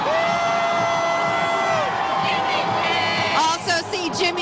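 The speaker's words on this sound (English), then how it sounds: "The crowd now chanting Brady." A parade crowd cheers for Tom Brady, a dense roar of outdoor voices with whoops and rising shouts that swell into chanting near the end.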